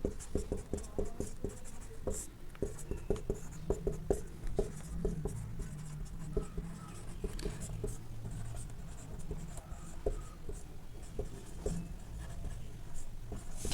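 Chalk or marker writing on a classroom board during a lecture: a quick series of sharp taps and scratchy strokes, close and fairly steady, that thins out later while a few scattered strokes continue.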